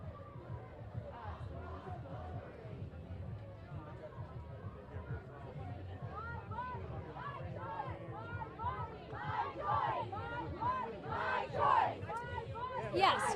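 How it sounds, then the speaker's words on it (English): Protest crowd gathered in Washington after the Supreme Court overturned Roe v. Wade, chanting and shouting in rhythmic bursts that grow steadily louder and more energetic toward the end, with a reporter speaking over the din. "as you're hearing, the crowd is getting louder and louder"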